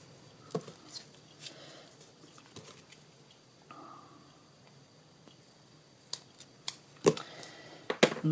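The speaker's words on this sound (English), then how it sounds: "Get my sticky scissors and then a piece" Sticky craft scissors snipping paper for a birthday card: a few soft, sharp cuts scattered through a quiet tabletop scene, with a cluster of crisp snips near the end.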